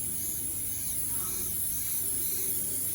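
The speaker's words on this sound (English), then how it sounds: "Quick spray of olive oil." Olive oil sprayed from a can onto Turkish bread, a steady close broadband hiss running unbroken for about three seconds with no talk.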